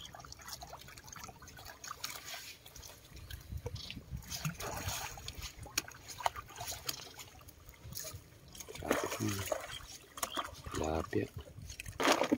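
Water is poured over freshly caught fish during a fishing outing, giving irregular splashing and trickling throughout, with a few louder gushes near the end and other activity in the background.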